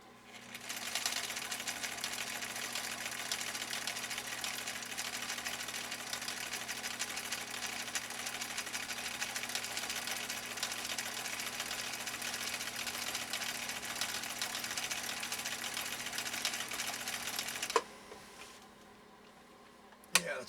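A 1962 Husqvarna Viking Type 21E sewing machine runs a 3-point stitch on cotton-blend fabric, a steady fast mechanical whir and patter held for about eighteen seconds before stopping with a click, followed by near silence.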